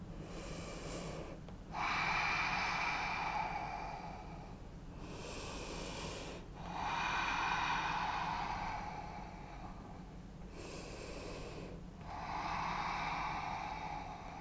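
Slow, deep breaths during a yoga pose, three long airy exhales, each rising and fading in a steady rhythm, close and fairly soft with no talking.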